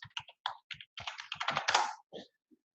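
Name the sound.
typing on a computer keyboard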